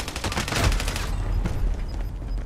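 Rapid automatic gunfire in a shooter video game: a fast, steady train of close shots fills the first second, followed by scattered, fainter shots.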